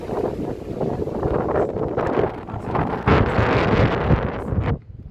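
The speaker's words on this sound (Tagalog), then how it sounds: "narinig nyo yung hangin" Strong wind roars and buffets the microphone in loud, continuous gusts during heavy rain, with no talking, cutting off abruptly near the end.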